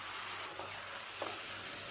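Potatoes, onions and shrimp fry together in a pan with turmeric, giving a steady, even sizzle throughout and a couple of soft stirring touches, with no one speaking.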